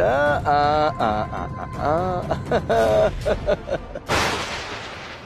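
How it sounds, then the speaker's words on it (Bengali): A sharp burst of gunfire from an ashram cracks out near the end, following a stretch of harmonic voices or music; the shot is loud and close with a broad noisy tail. "হ্যাঁ, আশ্রম থেকে গুলির শব্দ।"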